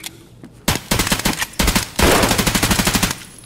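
Automatic rifle fire in a Russian-themed shooter game firefight: a few short bursts, then a long rapid string of loud, close shots in steady rhythm.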